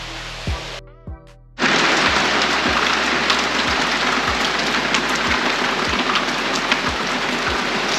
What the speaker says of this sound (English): we're in rainy season, so it's really we're getting lots of afternoon showers